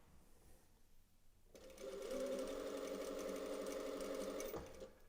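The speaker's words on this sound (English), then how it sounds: "I'm going to do a double line of stitches here" A sewing machine stitches a hem, starting after a quiet pause and then running in a steady, close whirring hum for a few seconds before stopping abruptly.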